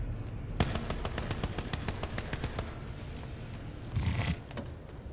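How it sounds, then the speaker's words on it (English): Rapid automatic gunfire rattles in the online shooter PlanetSide 2, a fast burst of evenly spaced shots followed by scattered distant fire and a louder impact near the end, with no talking over it. "we are definitely getting shot at from somewhere"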